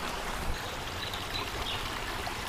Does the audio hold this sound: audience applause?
no